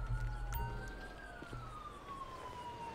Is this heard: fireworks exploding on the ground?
no